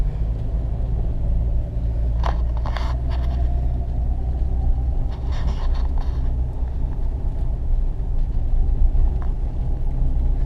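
A bouncing vehicle rumbles steadily along a rough track near a Lake Superior cottage in Michigan's Upper Peninsula, low engine drone and jostling knocks filling the scene throughout.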